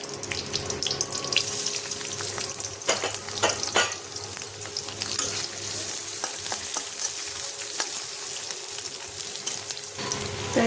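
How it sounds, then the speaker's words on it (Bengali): Chopped onions frying in oil with whole spices (cardamom, dried red chilli, cloves and a bay leaf), a continuous loud sizzle and crackle up close, with occasional stirring scrapes and sharp pops. "দিয়ে দিচ্ছি কেটে রাখা পেঁয়াজ।"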